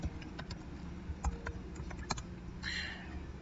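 Keys tapped on a computer keyboard while typing out a quiz question, a few quiet irregular clicks over low background hum, with a faster burst of light keystrokes near the end.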